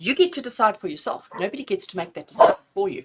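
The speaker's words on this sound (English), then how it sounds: "excuse my dog's barking" A dog barks indoors in short, sharp bursts that sit underneath continuous close-up speech.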